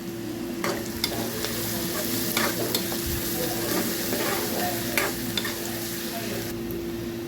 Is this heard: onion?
yes